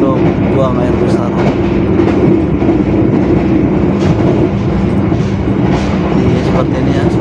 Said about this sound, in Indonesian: Seperti ini ya suasana di kereta Argo Parahyangan ketika sedang digeber